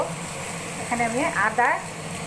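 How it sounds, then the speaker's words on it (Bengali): Ginger sautéing in a curry of raw banana, papaya, drumstick and beans makes a soft, continuous sizzle, while someone talks over it in the middle. "আদাটাকে একটু কষিয়ে নিব যাতে আদার কাঁচা গন্ধটা সেইভাবে না করে"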